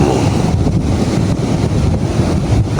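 Strong wind roars over ocean waves breaking on a shore, a loud, continuous rush with constant buffeting and no clear gaps.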